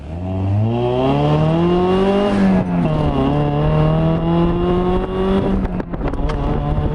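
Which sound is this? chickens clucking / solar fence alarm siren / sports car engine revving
sports car engine revving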